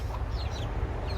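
A Silkie rooster clucks in soft, quick notes over steady low background rumble, with the bird fairly close and no talk.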